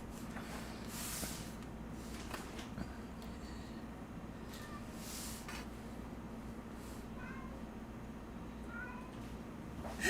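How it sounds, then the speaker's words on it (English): A house cat meows and cries from another room, several faint, drawn-out calls spaced irregularly over a low steady background hum, muffled by distance with no talking. "Kitty's crying in the bedroom."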